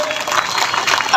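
Audience applause during a trophy presentation at an Urdu mushaira in Madanpura, Nagpada, a loud, steady wash of many hands clapping close by.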